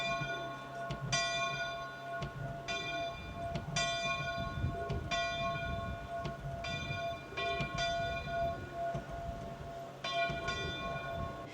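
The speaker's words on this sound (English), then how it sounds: "The bells will be ringing." Church bells ring out from a church tower at a manor wedding in a repeated pattern of bright, resonant strikes, each peal sounding in a cluster before the next, heard from a moderate distance.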